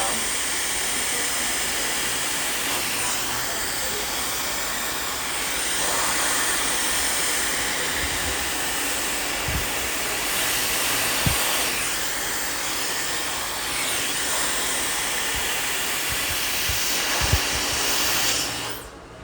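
A handheld hair dryer blows steadily and loudly on hair during an at-home blowout, a continuous broadband whoosh running throughout with small shifts in pitch as it moves, and a few faint clicks.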